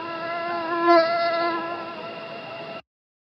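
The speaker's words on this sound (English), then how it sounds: "Here's the mosquito." A steady, high-pitched mosquito whine drones for almost three seconds, close and fairly loud, then cuts off abruptly to silence.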